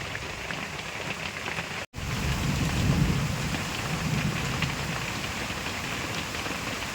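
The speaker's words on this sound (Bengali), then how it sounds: "আর দেখেন তুমুল হারে বৃষ্টি, সেই ডাকাডাকিও করতেছে।" A downpour roars steadily after a brief cut, with thunder swelling as a deep low rumble beneath the rain.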